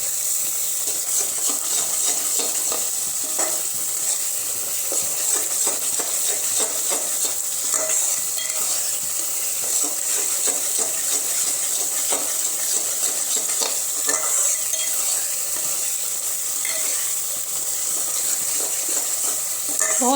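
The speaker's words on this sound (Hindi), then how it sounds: "काजू और प्याज का पेस्ट, अच्छे से हम मिक्स कर लेंगे।" Cashew and onion paste cooks in a pan, a steady hissing sizzle with soft wet stirring scrapes running throughout, close and unbroken.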